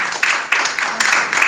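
Congregation at a church service clapping in broad, steady applause, with a few louder bursts standing out from the continuous wash of hands.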